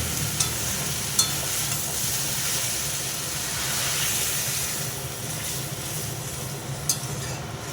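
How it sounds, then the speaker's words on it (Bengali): Water hits a hot pan of Bengali drumstick-flower curry (sajne phool chochchori) cooked with turmeric and green chillies, setting off a loud, sustained hissing sizzle with a few sharp crackles. "এবার আমি দিয়ে দেবো জল"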